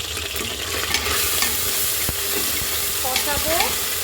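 Beef and potato curry with garlic paste stirred in a pan, a steady sizzle with intermittent spoon scrapes and clinks against the pan, fairly close, without talk.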